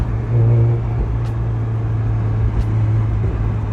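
Mazda MX-5 convertible engine roaring loudly on a city street, a steady deep drone with a swell of throttle early on, loud and close, no talking.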